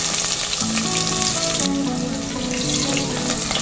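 Finely chopped onion sizzles over low heat in a hot oil tempering with cumin seeds for chana paneer bhurji, a steady close, bright frying crackle running throughout with no voices over it.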